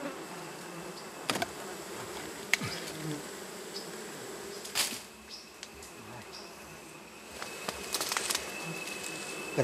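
Bees buzz steadily around beehives, a dense close hum with occasional sharper passes and faint patter, no voices present.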